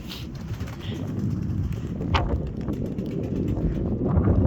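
Pigeons coo in a steady low murmur while being fed outdoors on a windy day, with wind buffeting the microphone throughout and a few brief higher calls or rustles mixed in.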